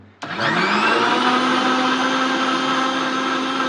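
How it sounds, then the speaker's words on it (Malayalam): An electric mixer grinder beating eggs for a Kerala meat cake switches on abruptly and runs as a loud, steady whir from start to finish. "മിക്സിയിലിട്ട് അടിച്ചാൽ പ്രത്യേകം എന്ന് പറഞ്ഞാൽ അറിയാം പെട്ടെന്ന് ആയി കിട്ടും"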